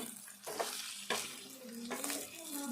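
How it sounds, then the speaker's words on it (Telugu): Bitter gourd pieces fry on low heat in a steel pan, giving a soft continuous sizzle broken by a few scraping stirs from a spatula. "తక్కువ వేడితో వేపుకోవాలి ఇది స్టవ్ సిమ్లో పెట్టుకొని ఫ్రై చేసుకోవాలి"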